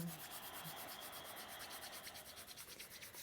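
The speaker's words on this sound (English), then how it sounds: "And then rub the hands together." Palms rubbing briskly together during a gentle pregnancy yoga session, a soft steady swishing friction that runs continuously and close up, quiet with no talking.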